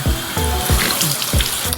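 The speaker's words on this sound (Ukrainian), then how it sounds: "Зараз буду знімати теплою водою." Close splashing water with repeated low thumps and wet slaps, like hands scooping water from a running tap onto a face.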